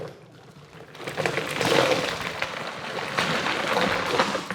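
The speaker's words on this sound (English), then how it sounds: "now I'll just put the water in." Water rushes and splashes steadily into a beer-brewing fermenter, a broad continuous gushing that swells after a quiet start and keeps flowing.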